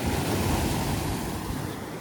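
Sea waves break on Alibag beach in a loud, continuous rush of surf, with wind noise over it and no voices.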